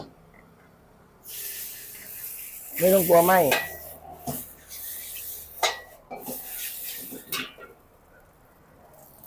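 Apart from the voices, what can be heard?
stir-frying wide rice noodles in a wok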